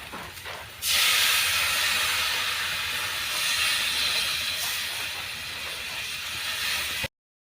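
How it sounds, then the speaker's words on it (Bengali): Water poured into a hot pan of ghugni (a pea curry) raises a loud, sustained hiss and steam roar that starts abruptly and holds steady for several seconds before cutting off, with no talk. "এখন আমি জল ঢেলে দেবো"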